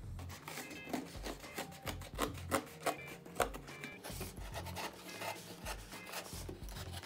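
Material being trimmed flush while making a 3D blohsh, a craft piece: repeated close scraping and rasping cuts in an uneven rhythm, steady and moderately quiet, with no talking.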